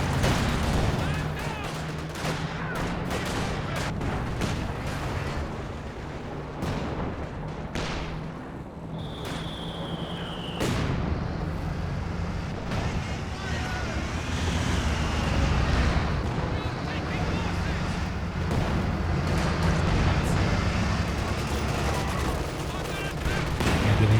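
Sustained bursts of machine gun fire and scattered gunshots ring out through a Company of Heroes 2 2v2 battle, with continuous combat noise layered under a commentator's voice.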